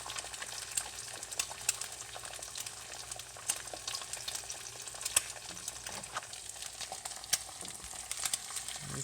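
An egg frying in hot bacon grease, a constant crackling sizzle dotted with sharp little pops at irregular intervals, close and moderately loud with no talk.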